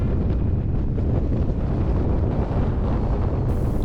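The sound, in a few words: strong wind buffeting a motorcycle rider in Iceland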